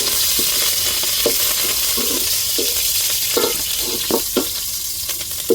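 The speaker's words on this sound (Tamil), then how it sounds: "கருவேப்பிலை சேர்த்துக்கிறோம்." Curry leaves dropped into hot oil for tempering a fish curry, giving a continuous bright sizzle with intermittent stirring clacks and crackles, close and steady throughout.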